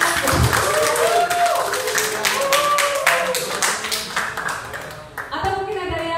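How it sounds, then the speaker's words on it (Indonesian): An audience claps in a room, bursts of hand claps and applause running throughout, mixed with people talking over it. "bisa tepuk tangannya buat saya"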